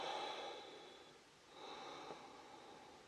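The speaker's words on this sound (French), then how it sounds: "Inspire, expire." Deep, slow breaths in and out during an abdominal workout, soft airy exhales with a faint rise and fall in a quiet room.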